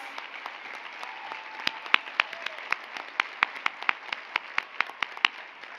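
Banquet audience at the 2019 AJLI Annual Conference applauding for the Junior League of Denver: a fairly quiet bed of clapping, with distinct individual claps ringing out close and sharp on top.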